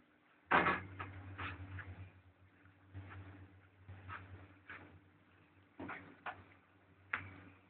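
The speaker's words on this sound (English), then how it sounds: "Lift going up." A Stannah lift at Clarks in Bath rises from level minus one, with a steady low mechanical hum under repeated ticking and clunking knocks spread across the climb, moderately close.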